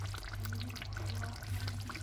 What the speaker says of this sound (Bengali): এখন লাস্টে আমি একটু লেবুর রস দিব নামানোর আগে